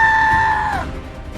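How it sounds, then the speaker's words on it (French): A high, sustained scream from a person in the Garten of Banban video game rings out clearly for most of a second, then bends downward and cuts off over low background game noise. "des gens qui gueulent"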